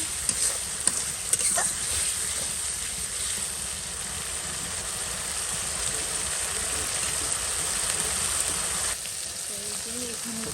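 Turmeric and chili powder frying in oil in a pan, a loud continuous sizzle with stirring scrapes and a few sharp clicks early on, close and steady throughout.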